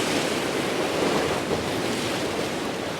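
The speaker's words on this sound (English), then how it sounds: "by putting more and more water flow in the actual aquarium" Strong, steady water flow from several pumps running at random speeds in a reef aquarium, a continuous broadband rushing wash like surf with no talking.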